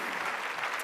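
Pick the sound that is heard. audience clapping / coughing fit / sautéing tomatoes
audience clapping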